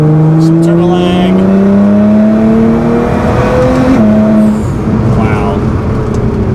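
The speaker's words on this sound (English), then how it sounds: "With the stage 3 setup though, we'll do a 4th gear from about 51 miles an hour." A stage 3 Nissan GT-R R35 tuned to about 600 wheel horsepower pulls hard in 4th gear from roughly 51 mph, its engine note climbing steadily and loudly up close, with a brief dip near the shift point.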